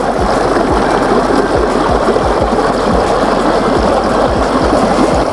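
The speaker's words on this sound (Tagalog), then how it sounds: "Dito ulit tayo sa ilog." A river stream runs steadily, a dense continuous rush of water with bubbling, splashy detail, close by and with no voices.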